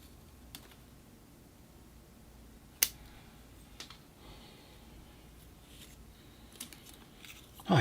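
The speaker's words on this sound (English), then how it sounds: "I'm just going to prune some of the tips with the scissors" Scissors snip the tips of a bonsai ficus during pruning, a few quiet, sharp isolated clicks spaced seconds apart over a faint, hushed background.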